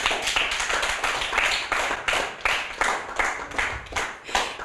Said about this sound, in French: Donc on applaudit Maria